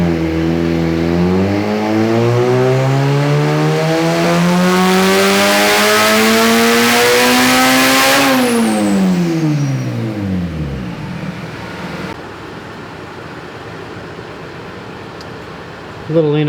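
Turbocharged right-hand-drive Honda CRX on Hondata S300 and E85 fuel, running about 10 pounds of boost, revs steadily upward under load during a tuning pull, then drops off sharply and falls to a quieter idle.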